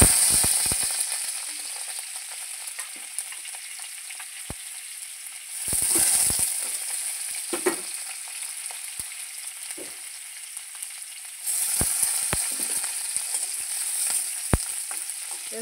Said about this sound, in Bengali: রসুনটাকে একটু লাল লাল করে ভেজে নিয়ে